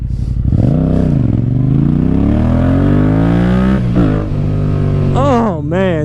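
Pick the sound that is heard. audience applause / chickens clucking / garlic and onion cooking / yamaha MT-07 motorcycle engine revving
yamaha MT-07 motorcycle engine revving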